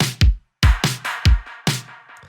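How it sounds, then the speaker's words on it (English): Clap-like impact drum hits with delay and reverb, five sharp loud strikes in an uneven rhythm, each followed by a spacious echoing tail, no voices. "Another really cool sound is this clap/impact thing."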